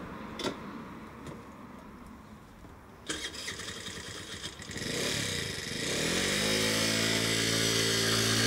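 Moped engine starting and revving up, a few sharp clicks and sputters giving way to a steady buzzing motor drone that grows louder and holds, close by.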